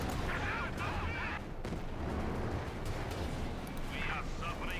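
Tank guns and explosions boom in the World War II strategy game Company of Heroes 2, a dense barrage of rumbling blasts and crackling battle noise running under a caster's excited commentary.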